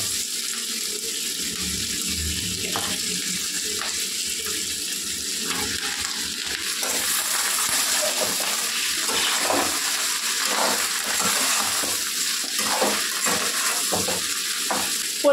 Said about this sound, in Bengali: এবার আমি ঝিঙেটা দিয়ে দেবো